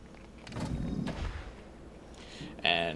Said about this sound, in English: And fire that rocket launcher, please